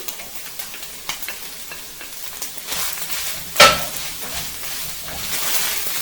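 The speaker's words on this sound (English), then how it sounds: "at this point, we're going to add our peppers, celery, and garlic" Peppers, celery and garlic frying with beef in a pan for sloppy joes make a continuous close sizzle, with a sharp metallic clink of a utensil against the pan midway and a few faint stirring scrapes.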